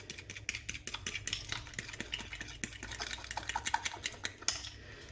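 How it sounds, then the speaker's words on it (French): Spoon stirring honey sauce in a bowl, rapid rhythmic clinks and scrapes against the dish, close and clear with no voices. "vous mélangez."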